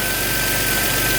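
Car engine idling smoothly and quietly just after an oil change, a steady low rumble with a faint constant whine, close by and alone with no talk.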